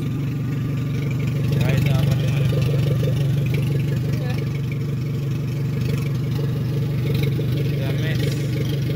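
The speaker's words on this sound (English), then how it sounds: "Let me get a quick start." A Toyota Corona under rebuild after an accident runs with no exhaust fitted, giving a loud, rough, steady engine drone close by throughout, while someone talks over it.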